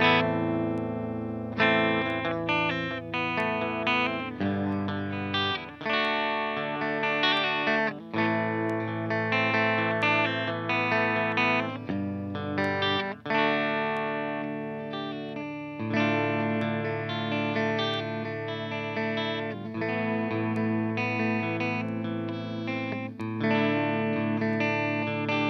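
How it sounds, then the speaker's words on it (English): A Nashville Guitar Works 120IV electric guitar plays through effects, with dense strummed chords and picked lines that ring with modulation and distortion, steady and loud for the whole stretch, no talking. "So what does it sound like?"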